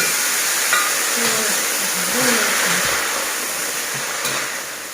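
Hot lard poured into a heated pan sizzles with a steady, bright hiss while stir-fried morning glory is prepared. The hiss stays loud and even throughout, with a voice talking faintly underneath.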